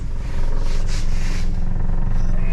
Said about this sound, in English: I'm going to stop the boat by hitting it in reverse